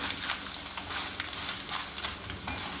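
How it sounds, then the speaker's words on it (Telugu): Snack pieces frying in a pan on low flame, a gentle, continuous sizzle with small crackles and occasional sharper pops, steady and close with no talking. "దీన్ని సిమ్లో పెట్టి వేపుకోవాలండి."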